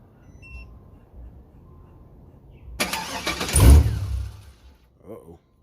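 An LS V8 car engine cranks and briefly fires, a short loud burst of turning over and catching after a quiet stretch, close to the microphone, then fading back down.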